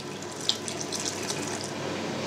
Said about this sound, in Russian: Туда же переливаем оставшийся бульон.